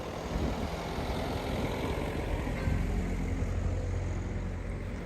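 Steady traffic rumble on a street outside Canterbury Cathedral, engines of passing cars and heavier vehicles blending into a continuous low drone that swells slightly midway, no talk.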